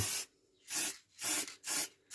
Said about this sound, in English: I'll go outside and spray this on now